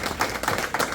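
Applause from an audience honoring the volunteer staff at a community turkey drive, a short burst of steady clapping from a crowd, close and fairly loud, with no speech over it.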